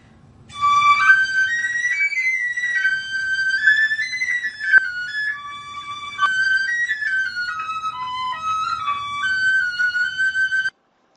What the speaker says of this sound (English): That's the piccolo. It's very high pitched.